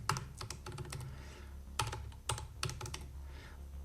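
Typing on a computer keyboard, with bursts of quick keystrokes separated by short pauses over a low steady hum, close and fairly quiet, no talking.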